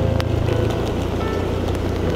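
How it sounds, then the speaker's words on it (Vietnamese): A heavy rain shower in Da Lat, Vietnam, a loud, dense, continuous patter and hiss of rain striking surfaces nearby, with a low rumbling background and no talking. "Trời bắt đầu mưa to rồi."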